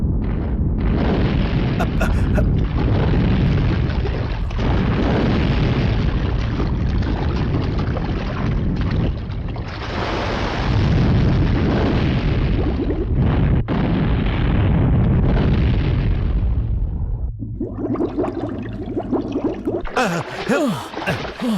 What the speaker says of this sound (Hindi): अशोक साहब, अशोक साहब, फायर!